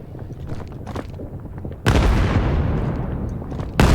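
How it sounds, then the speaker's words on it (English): A grenade goes off in a competitive Vail VR shooter match: one loud blast near the middle, then a second sharp burst at the end, over faint game noise with no voices. "Sayo's big nade onto Clev, almost hits it."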